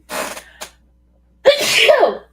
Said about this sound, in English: I gotta sneeze again, y'all